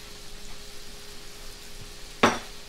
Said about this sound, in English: Then I'm going to put in the first 2 pieces face down, like that.